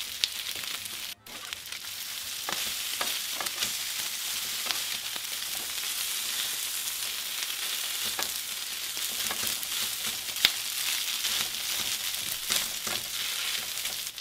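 Birria beef sears on a hot griddle with a steady, close sizzle, broken by occasional scrapes and stirring clicks, with no talking.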